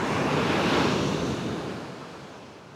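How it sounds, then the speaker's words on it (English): Ocean waves crash on the shore in a broad, loud wash of surf with some wind rumble against the camera, slowly subsiding. "You can see the waves crashing here."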